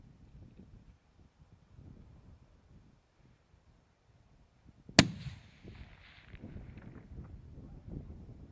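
A single sharp rifle shot at a mule deer buck during a Southern Alberta hunt, a loud crack halfway through followed by a rolling echo, with faint wind noise before and after.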